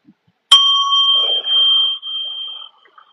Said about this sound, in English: Then also hit the bell again.